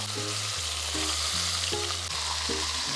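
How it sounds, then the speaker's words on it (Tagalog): Ossobuco beef shanks browning in hot oil in a large pan, giving a steady, close, crackling sizzle that does not let up, with no voices over it. "I-brown lang natin yung both side ng osobuco."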